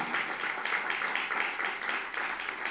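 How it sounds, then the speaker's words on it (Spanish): An audience at a stage show at CPC San Vicente applauds the sound and lighting crew. The clapping is dense and continuous at moderate volume, with no voices on top. "para quien pido un fuerte aplauso"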